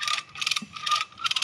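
Hand winch ratcheting while tightening goat fence wire, a run of rapid metallic clicks in four bursts, close and fairly loud with short pauses between.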